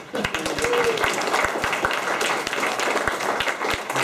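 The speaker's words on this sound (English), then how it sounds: "We'll have a round of applause for all of you." A small group of megagame players claps steadily for a few seconds, a lively patter of hands close by with no talking.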